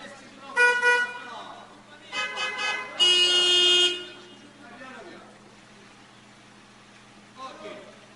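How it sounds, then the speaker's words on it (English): Car horns honk in an Italian street as a driver struggles to park: several short toots, then a longer, louder blare, with quieter traffic noise between. "And now you have more people honking"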